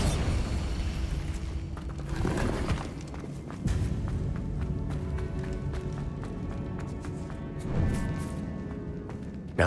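A Bombarda blast spell from the Hogwarts Legacy video game goes off as a rumbling boom among continuous game noise, with further bursts and rumbles through the scene.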